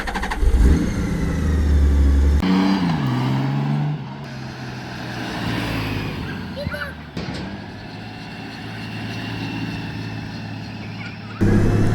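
A Honda Goldwing F6B motorcycle engine starting and revving, with a rising rev near the start and then a steady running rumble, fairly close, with a closing burst at the end.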